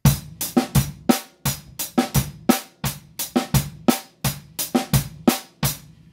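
Drum kit playing a soca groove, with crisp, closely miked kick and snare hits in a steady, danceable repeating rhythm and no talking over it.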